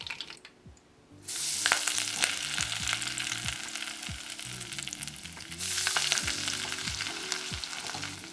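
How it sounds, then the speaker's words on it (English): Baby ayu coated in flour sizzle as tempura in a shallow layer of oil, a steady crackling fry that starts after a brief quiet moment and swells again near the end, close and without voices. "Fry it. It's better to put more oil, but I just use this much of oil"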